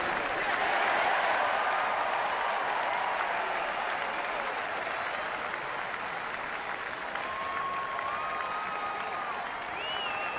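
Large baseball stadium crowd of nearly 39,000 at a Reds–Nationals game applauds and cheers steadily awaiting the final out, a broad roar with a few whistles rising above it, moderately distant.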